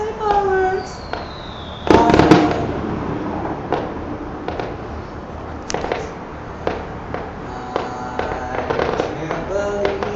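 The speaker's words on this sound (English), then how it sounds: "Hey, fireworks." Outdoor fireworks near a hotel in Portland, Oregon, with a strong burst cluster followed by scattered lighter pops and crackles at irregular intervals, alongside faint whistling rises and a person speaking.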